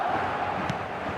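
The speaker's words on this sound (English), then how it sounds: "The crowd are calling for this to be put to bed." Stadium crowd in an eFootball match roaring steadily as a dense, sustained wash of cheering voices at moderate loudness, with no clear pauses.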